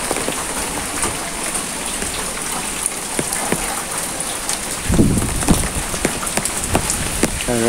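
Light drizzle falls on mango trees on a windy morning, a steady patter of drops with a few louder close splashes and thuds partway through.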